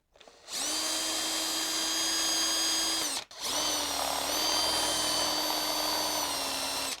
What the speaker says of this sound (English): the bolts were rounded off on the head, so I had to drill them out